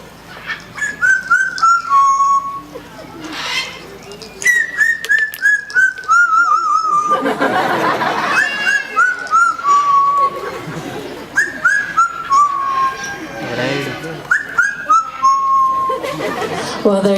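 A parrot named Fernando whistles an improvised tune at a Lion Safari parrot show, bright gliding whistled phrases repeating in bursts, with crowd chatter and noise swelling between them.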